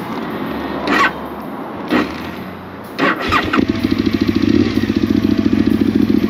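Rally car with a fully seam-welded shell and roll cage cranks in a few short bursts, then catches and settles into a loud, steady, throbbing idle close by.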